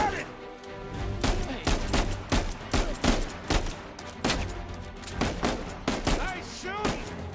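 Rapid bursts of gunfire in the video game Uncharted 4 come as repeated loud, sharp shots in uneven clusters throughout, over a low background rumble.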